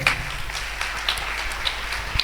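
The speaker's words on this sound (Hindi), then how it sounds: "आए इस पाखरू के लिए जोरदार तालियां बजाएं" A church congregation claps in a short burst of applause, dense and fairly close, with a few sharper claps standing out as it continues.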